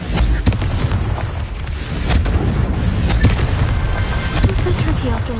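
A Confringo blasting spell in Hogwarts Legacy goes off as a string of sharp, booming explosive cracks over a dense, rumbling battle din, close and loud throughout, with a few brief tonal chirps near the end.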